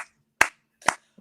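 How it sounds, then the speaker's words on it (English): Two sharp, loud hand claps about half a second apart, with a faint third starting at the very end, heard alone during a sports talk show. "Clap your hands."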